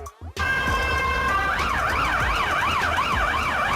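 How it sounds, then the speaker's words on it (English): A Finnish police car siren sounds loud and near, starting as a steady two-tone wail and then switching to a rapid warbling yelp that cycles repeatedly, with faint vehicle rumble underneath. "This is the police car of Finland."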